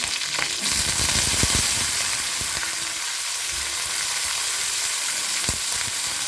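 Peeled water lily stems and slit green chilies sizzle loudly in hot salted oil in a pan, a constant crackling hiss with sharper spits now and then.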